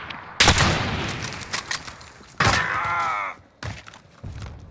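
Call of Duty: Modern Warfare firefight between an AS Val and a sniper rifle: loud, sharp gunshot bursts land in quick succession with short gaps, the last reports slightly apart.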